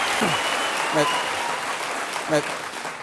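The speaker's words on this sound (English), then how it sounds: "thank you for that applause, and that was just for the adverts" Studio audience applause on a British improvised comedy panel show, a steady broadband wash filling the whole stretch at even loudness, with brief spoken interjections rising above it.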